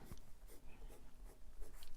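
Broad steel nib of an Opus 88 Koloro fountain pen scratching and gliding across paper, with soft, close, continuous scraping strokes in a quiet room.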